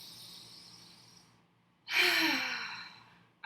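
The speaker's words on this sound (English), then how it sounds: "take a deep breath in" A deep breath in and out during a children's yoga session: a soft, drawn-out inhale fades, then a louder, breathy exhale through the mouth follows, close to the microphone.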